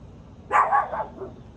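Dogs barking indoors at home in the Dallas area, a short burst of two or three loud yips and barks followed by a softer, trailing bark, fairly close with no talk.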